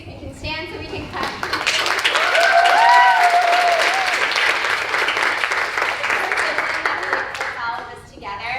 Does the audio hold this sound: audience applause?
yes